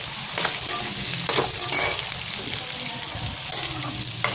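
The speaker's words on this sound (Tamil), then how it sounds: "நம்ம கடுகு பொரிஞ்சிட்ருக்கு" Steady, crackling sizzle of mustard seeds and onions frying in hot oil for adai dosa, loud and close, with occasional sharper pops throughout.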